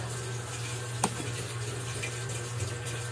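Water runs steadily from a household faucet, a continuous close hiss and gurgle with a single small clunk near the start and no voices.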